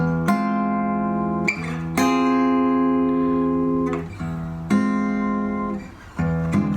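Sustained electric guitar notes and chords ring out one after another, each struck clearly and left to decay, with no talking.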